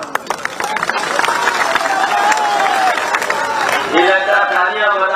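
Crowd at an election rally in Madhya Pradesh for Akhilesh Yadav's Samajwadi Party, clapping and cheering loudly and continuously, with a dense roar of many hands and voices that swells near the end.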